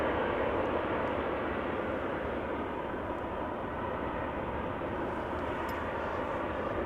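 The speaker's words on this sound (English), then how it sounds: "So this is the airplane getting towed to the hangar for maintenance." An airplane under tow to a maintenance hangar at Amsterdam Schiphol Airport gives a steady, moderately distant low rumble of machinery that holds evenly throughout, with no voices.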